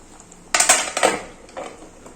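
A lid clanks down onto a pan of simmering mustard hilsa fish curry, two or three close metallic knocks and rattles in quick succession, followed by a softer settling clink, with no talking.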